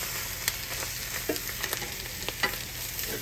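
Leftover corned beef browns in a very hot skillet with a steady, close sizzle and a few sharp clicks and scrapes as it is turned.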